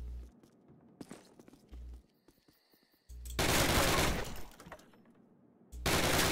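Machine guns fire in Call of Duty: after quieter footsteps and faint game sounds, two loud, sustained automatic bursts ring out close by, separated by a brief lull.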